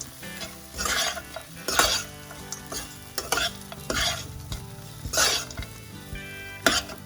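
Poha stirred continuously in a pan over low heat, with repeated scraping strokes of a spoon against the metal and a soft frying sizzle underneath, close and fairly loud.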